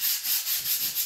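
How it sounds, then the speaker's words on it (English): Hand sanding of polyfiller across a plastered wall makes a close, raspy scratching in a steady back-and-forth rhythm of about five quick strokes, with no voices. "So what I'm doing at the moment is sanding the entire wall of the"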